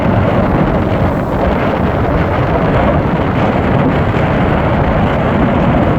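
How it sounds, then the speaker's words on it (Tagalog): Strong wind buffets the microphone in a dense, loud, unbroken roar that stays constant the whole time, with no voices. "lakas ng hangin."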